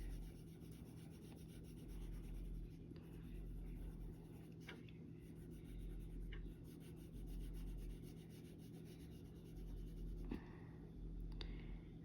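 Brutfuner 520 colored pencil lightly coloring on paper for a fantasy coloring book: soft, continuous scratchy rubbing strokes, faint and close, over a steady low background hum.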